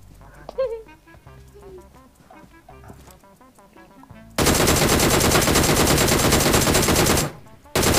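Automatic gunfire in the battle royale game PUBG, a loud sustained burst of rapid shots lasting about three seconds and then a brief resumption, following quieter in-game sounds and soft talk.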